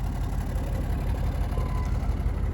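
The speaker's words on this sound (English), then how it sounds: "That sounds incredible. That is how an SVR should sound." A Range Rover Sport SVR engine fitted with a loud Urban modified exhaust rumbles steadily, a deep continuous idle-like drone close by with no talk.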